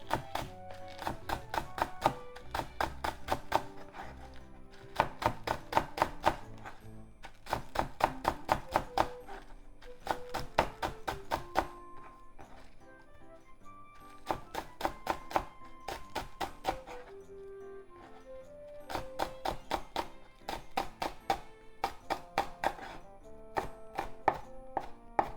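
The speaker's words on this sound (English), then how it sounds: "Let's just make thin slices" A knife slices dried shrimp and garlic chives thinly on a cutting board for fried rice, making quick rhythmic bursts of crisp taps separated by short pauses, close and clear.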